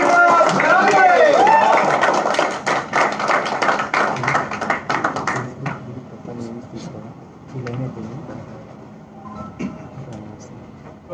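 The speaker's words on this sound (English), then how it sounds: "Please, with very big round of applause for Mr." Audience applause at an office event in Hyderabad, loud and dense for about five seconds under a voice speaking, then thinning to scattered claps and murmur.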